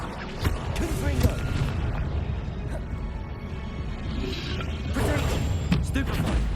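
Blast of the Confringo fire spell in the Hogwarts Legacy video game, a few loud booming bursts amid dense combat clatter and shouted spell incantations, with a second cluster of impacts near the end.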